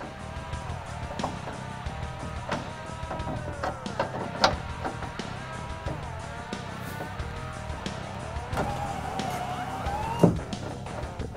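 An aftermarket power window motor in a 1965-1968 Mustang, bench-tested on 12 volts, drives the window with a faint whirring hum that rises and shifts in pitch over several seconds, with small clicks and knocks throughout.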